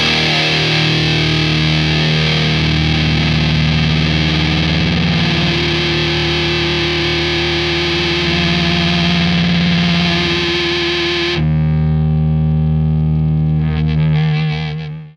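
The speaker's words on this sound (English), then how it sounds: "when you hold down the foot switch, again, another integrated foot switch, you get this endless sustained feedback" A Boss pedal's endless sustained feedback rings as a steady, loud distorted electric guitar drone with an octave overtone, holding continuously before shifting pitch near the end and cutting off.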